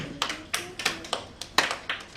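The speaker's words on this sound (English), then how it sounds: "Clap for yourself." Young children aged four to seven clap for themselves in a morning class at an Igbo summer camp, giving about eight separate sharp claps spread unevenly and fairly close, with no talk over them.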